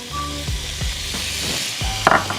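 Close, steady sizzling of vegetables starting to cook in a hot pan for a Southwestern eggroll filling with beans, corn, spinach and jalapeno, with a faint electronic tone and a couple of soft clinks over it.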